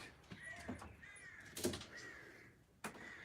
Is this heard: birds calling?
yes